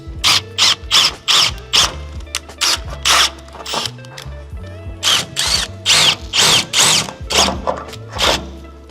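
A power drill bores an M5 hole for mounting a ladder on a Mercedes Sprinter van, running in a series of short, loud, close bursts with brief pauses between them.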